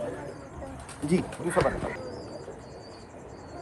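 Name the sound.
pigeon cooing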